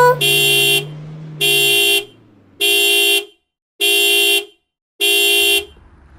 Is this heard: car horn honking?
yes